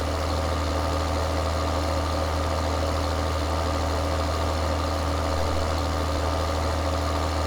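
A steady, droning tractor engine idles close by in Farming Simulator 2013, the International 1486 model, its low rumble unchanging throughout with no voices.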